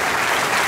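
Applause from a church congregation during a Catholic evangelization and healing mission, a dense steady wash of many hands clapping at once, loud and even from start to finish of the brief moment.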